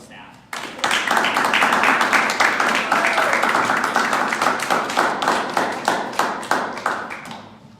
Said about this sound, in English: I want to actually just give a round of applause to our staff.